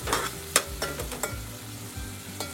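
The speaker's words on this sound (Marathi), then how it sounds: "गॅस बारीक ठेवायचा आहे, जेणेकरून मसाला तेलामध्ये शिजेल पण करपणार नाही" Masala spice paste for Malvani prawn masala cooking in oil over a low gas flame, a soft steady sizzle broken by several sharp spoon scrapes and stirring clicks, close with no talking.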